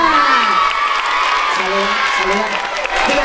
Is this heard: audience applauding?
yes